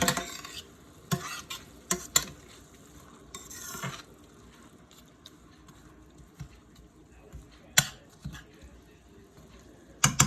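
Chicken strips stir-fry with onions, peppers and garlic in a hot pan, a soft low sizzle punctuated by several sharp clacks and scrapes of a utensil against the pan, fairly faint and heard close.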